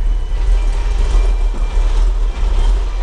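A Porsche 911 Carrera 2/4 engine runs with a misfire, giving a steady, close, heavy low rumble with an uneven churning texture throughout and no voices.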